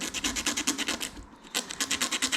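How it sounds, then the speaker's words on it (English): Sandpaper rubs the top coating off the tip of a telescopic fishing rod, a close rhythmic scratching in quick regular strokes with a brief pause midway. "I just take the sandpaper"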